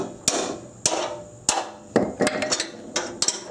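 A 3-pound hammer strikes metal repeatedly during Subaru engine removal, sharp, loud blows in an uneven rhythm, some landing in quick pairs.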